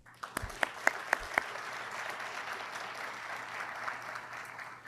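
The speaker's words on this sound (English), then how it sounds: "That alone deserves applause" Applause at a university research center grand opening, a handful of sharp distinct claps at first, then a soft, diffuse wash of crowd clapping continuing evenly, fairly quiet and distant.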